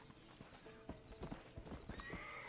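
Quiet hooves clip-clop in an uneven rhythm while a horse neighs and snorts nearby, all fairly faint, in the video game Red Dead Redemption.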